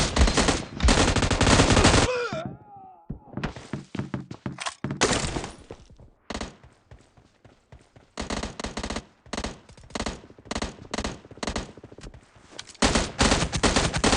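Bursts of automatic gunfire in the PUBG Mobile shooter game, loud rapid volleys in several separated bursts with short quiet gaps and a few single shots, no talk.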